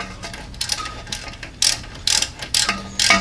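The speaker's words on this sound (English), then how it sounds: "And this ratchet is a piece of junk" A hand ratchet clicks in bursts while tightening brake bolts on a Hyundai Sonata during a front brake job, several spaced runs of sharp rapid ratcheting, close and fairly loud, with no talking.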